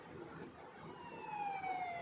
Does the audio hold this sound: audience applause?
no